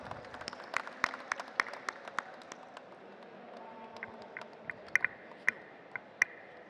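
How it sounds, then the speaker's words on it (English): Scattered audience applause at a hotel and travel technology awards ceremony, quiet and fairly distant, with sharper individual claps standing out over a soft wash of clapping. "Come on, audience, can we have a round of applause?"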